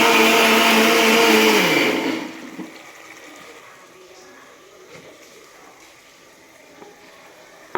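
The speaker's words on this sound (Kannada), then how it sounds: "ನಾನು ಟೊಮೊಟೊನ ರುಬ್ಕೊಳ್ತೀನಿ ನಾನು ಇವಾಗ ಒಂದೆರಡು ಟೊಮೊಟೊನ ಪೇಸ್ಟ್ ಮಾಡ್ಕೊಳ್ತೀನಿ" A mixer grinder blends tomatoes into a paste with a loud, close whirring roar for about two seconds, then cuts off abruptly and leaves only faint kitchen room noise.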